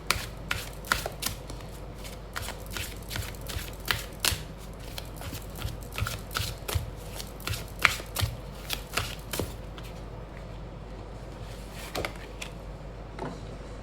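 A deck of tarot cards is shuffled by hand in a steady run of crisp riffles and slaps, close and clear, for about ten seconds before trailing off into sparser taps.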